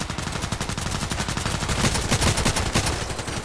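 Rapid long-range gunfire in the shooter game Contract Wars, a dense, loud stream of sharp shots in quick rhythmic succession running continuously, with no voices.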